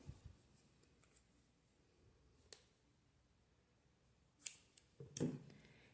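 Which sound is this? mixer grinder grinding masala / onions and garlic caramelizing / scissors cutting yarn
scissors cutting yarn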